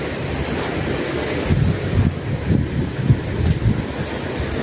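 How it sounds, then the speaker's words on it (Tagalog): Rushing water at a mountain resort, a steady close roar of flowing stream or falls with low rumbling surges, heard alone without voices. "Ngayon wala tayong ginagamit na wireless, kaya makikita ngayon ang background ng hagas-has ng tubig."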